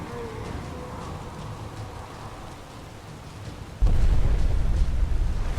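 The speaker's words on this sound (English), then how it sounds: "When that explosion goes off, he's gone." A loud explosion bursts in partway through the clip and kills a dragon in the video game Skyrim. Its deep, heavy rumble stays sustained after a quieter stretch of rain-like ambient noise.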